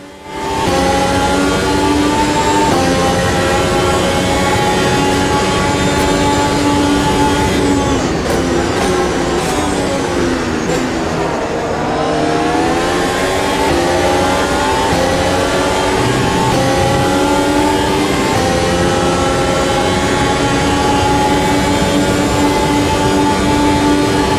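Race cars lap Monza in a racing video game while chasing a Ferrari, with loud sustained engine whine rising and falling through gear changes and a dip in pitch mid-lap before climbing again, with no voices.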